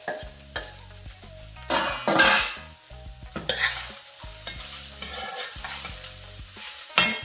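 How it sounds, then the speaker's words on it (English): Shredded cabbage and a little carrot sauteed in oil over moderate heat, bursts of sizzling and scraping as a utensil turns the vegetables, with knocks and clatter against the pan between quieter frying pauses. "Keep turning until it's sauteed."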